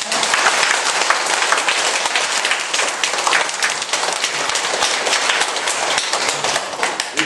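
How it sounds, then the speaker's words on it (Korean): Dense, sustained applause from a large audience at an evening health seminar held in a church, loud and continuous throughout with no voices standing out. "이때 박수 한번 쳐야 합니다"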